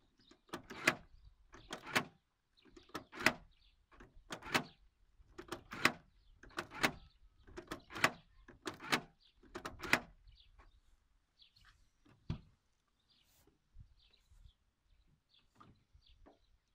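Car door lock being worked open and closed repeatedly after a WD-40 spray to fix a stiff key, giving a regular series of sharp mechanical clicks and clunks about every second, then a few scattered softer clicks.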